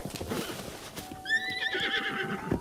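A horse in Breath of the Wild whinnies loudly over a steady clip-clop of hooves, the neigh rising and falling for about a second before the hoofbeats carry on alone.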